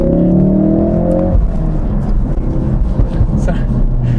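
Ford Focus RS Edition engine under way, a strong rising drone that climbs for about a second and a half then settles into a steady rumbling road roar, close and loud, with someone talking over it.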